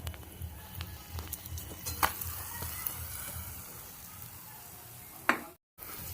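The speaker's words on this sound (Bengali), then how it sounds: "লাল লাল করে পোয়া পিঠেগুলো বা তেলের পিঠেগুলো ভেজে নিচ্ছি" Poa pitha, Bengali sweet oil cakes, frying in a pan of oil, giving a soft, close sizzle broken by a few sharp utensil clicks and scrapes, with a short drop to silence near the end.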